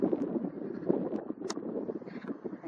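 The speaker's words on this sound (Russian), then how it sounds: "Очень ветрено" Strong wind buffets a microphone outdoors in Kharkiv before dawn, producing a continuous low rumbling roar with uneven gusty surges throughout.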